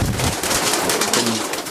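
Breeding racing pigeons coo in a loft, a soft continuous murmur of several birds close by, with no talk over it.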